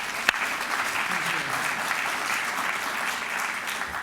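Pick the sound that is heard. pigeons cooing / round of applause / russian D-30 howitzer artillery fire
round of applause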